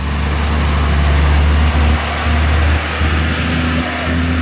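Heavy truck engines labor on a steep road in a downpour, a loud, continuous low engine roar with brief dips and rain hiss over the top.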